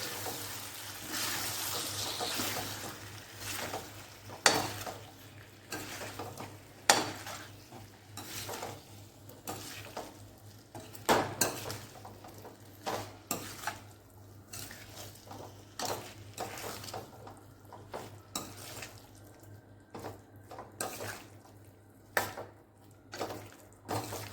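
Sukhi bhaji, a dry vegetable dish, is gently mixed with fresh coriander in a pan: soft, irregular spoon scrapes and occasional clinks under a faint sizzle, quiet and close, without speech.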